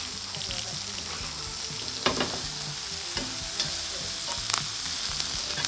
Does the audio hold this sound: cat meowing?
no